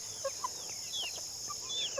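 Several chickens cluck softly in short, scattered calls over a steady high-pitched background hum.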